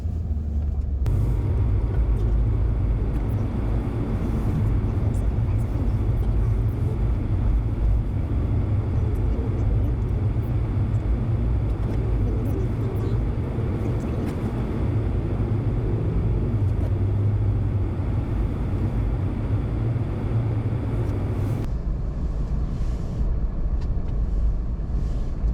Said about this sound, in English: we'll just go and find some nice deep snow here and see how the truck responds